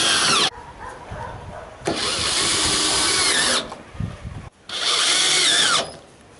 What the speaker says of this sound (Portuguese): com a parafusadeira deles, eu posso colocar o restante dos